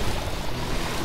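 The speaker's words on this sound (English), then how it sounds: "Spray down the slime." Water sprayed onto slime in Lightyear Frontier, a steady, even hiss of spray that lasts the whole second without a break.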